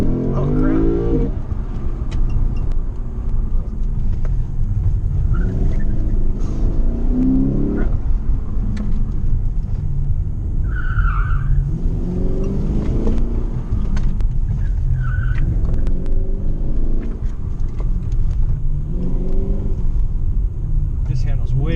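A Lexus car is driven hard around a course at the Rose Bowl, its engine rumbling and revving continuously from inside the cabin, with brief tire squeal and people talking over the noise.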